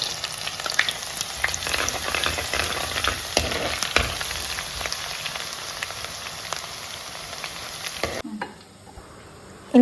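Thinly sliced shallots and garlic sautéing in hot coconut oil in a pan with fenugreek, a crackling close sizzle with stirring scrapes that fades out abruptly near the end.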